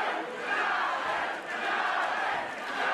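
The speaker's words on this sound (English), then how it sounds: "Again, the crowd gets involved." Spectators at an MMA fight cheer and yell in a continuous roar that rises and dips in waves, heard alone at moderate distance.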